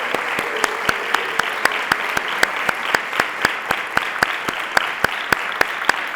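Audience applause greeting the news of the Count Basie Collection at the Rutgers Institute of Jazz Studies, a steady dense roar of many hands with sharp sporadic claps standing out, sustained throughout.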